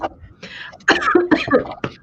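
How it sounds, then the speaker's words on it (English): Someone coughs and sputters in a few rough bursts, choking on saliva, close up, with choked throat sounds mixed with brief vocal noise. "Excuse me while I choke on my own saliva for a moment."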